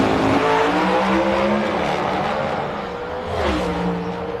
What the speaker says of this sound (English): You could hear the motor just go to the moon.